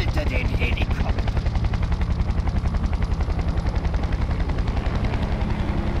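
A helicopter in the video game Far Cry 4, its rotor chopping in a fast, even, loud thumping pulse that runs throughout, close and dominant with a low engine rumble underneath.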